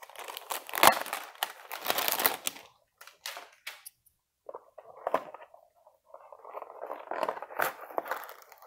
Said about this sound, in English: Cut this plastic off of here.